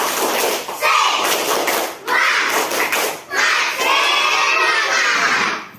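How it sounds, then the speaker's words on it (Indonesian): Students in a classroom perform a tepuk semangat, a rhythmic spirit clap, in loud patterned bursts of clapping broken by short pauses, with children chanting and shouting along. "Tepuk semangat."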